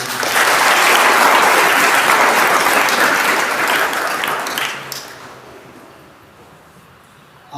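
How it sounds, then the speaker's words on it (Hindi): Loud, sustained applause from a church congregation at a Sunday Mass for the First Sunday of Advent, a dense wash of clapping that holds strongly for about five seconds, then thins and fades toward the end. "जोरदार ताली।"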